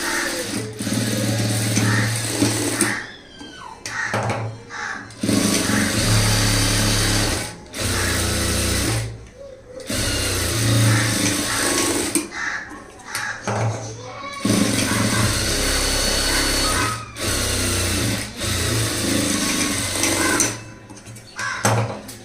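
An electric sewing machine runs in bursts of rapid stitching along the side seam of a front-gap blouse, stopping and starting several times with short pauses between runs.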